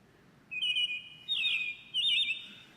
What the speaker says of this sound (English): It's actually a robin captured in Apple Park.